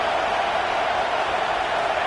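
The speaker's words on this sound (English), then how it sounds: "Here comes the noise from this big crowd in Happy Valley on 3rd down." Big stadium crowd in Happy Valley roaring on third down during a Penn State versus Michigan State college football game, a dense, steady wall of noise that holds without a break.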